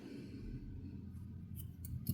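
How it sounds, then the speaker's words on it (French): Scissors snip through crochet yarn while finishing an amigurumi doll's dress, a few soft, quick cuts near and quiet over faint room noise. "Je vais faire une maille en l'air et je vais couper le fil."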